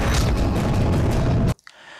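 A loud, sustained burst of gunfire in an Indian film cuts off abruptly, followed by a brief quiet with faint rustling.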